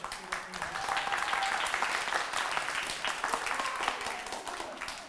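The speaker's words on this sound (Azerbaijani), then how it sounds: "Alqışlayaq Səmanı ürəkdən. Niyə belə zəif alqış?" An audience at a talent festival applauds the winner, Səma Qasımzadə, with steady, moderately faint clapping that holds evenly for several seconds, heard from the crowd at a distance.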